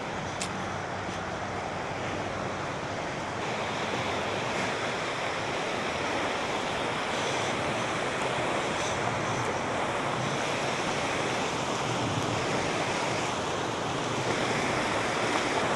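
Creek water flowing through Clear Creek Canyon near Black Hawk, a steady broadband rush that fills the whole clip at an even, close level with no talk over it.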